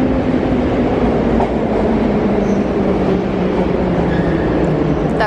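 Steady low rumble of a metro train running through Vostok underground station, continuous and loud, with faint rattling and no talking.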